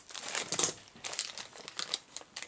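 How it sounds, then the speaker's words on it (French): Plastic parts bags for a JQ The E Car Black build crinkle and rustle up close in quick, irregular bursts as they are cut open and handled, fairly faint and with nobody talking. "c'est rigolo parce que ça te prend du temps de couper tous les sachets"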